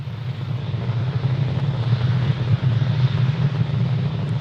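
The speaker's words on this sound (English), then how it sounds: "Falcon 9 has cleared the tower, and we're currently throttling down in preparation for max Q" A SpaceX Falcon 9 rocket climbs after clearing the launch tower, a loud, steady, deep rumbling roar of engines throttling down, with no voices.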